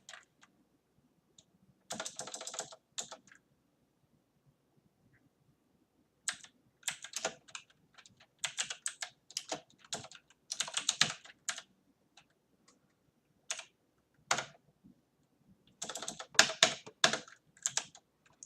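Someone types code on a computer keyboard in quick clattering bursts, with pauses of silence between the runs of keystrokes.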